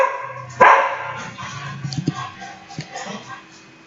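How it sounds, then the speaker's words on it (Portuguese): A pet dog gives one sharp, close bark indoors, followed by softer whimpers and grumbles while a person talks quietly. "espera que meu cachorro resolveu latir."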